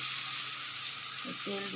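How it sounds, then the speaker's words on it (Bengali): Oil sizzles in a heated kadai with a continuous bright hiss, and a short tonal voice or clatter breaks in near the end. "কড়াইটা গরম হয়ে আর কি তেল দিয়ে দিলাম"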